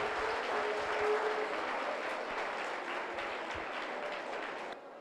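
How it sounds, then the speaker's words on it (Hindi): An audience applauds steadily at a religious gathering, a dense wash of many hands clapping at a distance, continuing for several seconds before thinning out. "एक बार हाथ ऊपर करके सारे लोग ताली बजा दें।"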